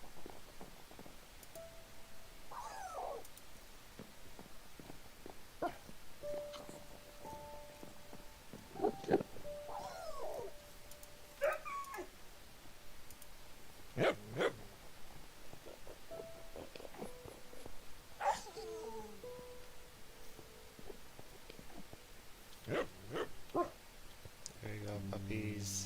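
Minecraft dogs in a hardcore game, heard as scattered short barks, yips and whimpers at moderate level over a quiet background, several distinct bursts spread through the stretch.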